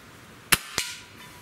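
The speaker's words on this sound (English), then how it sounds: "can we get rid of this can?" A Gamo Swarm Viper Gen3i air rifle fires outdoors with a sharp crack, followed a beat later by a fainter metallic snap as the pellet strikes a can.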